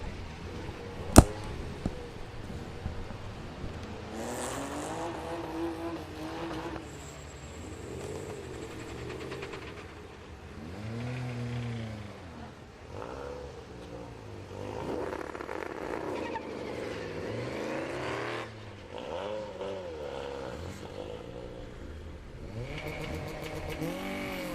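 BMW Super Modified 2WD rallycross cars at Lydden Hill move onto the circuit. Several engines rev and rise and fall in pitch as cars pass at varying distances, with one sharp click near the start.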